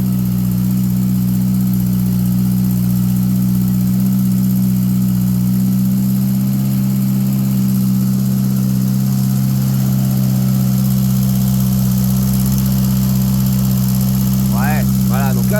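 A 63-year-old Renault Ondine car idles just after starting, a loud, close, steady engine drone with a constant low hum that holds throughout, and a voice is briefly heard near the end.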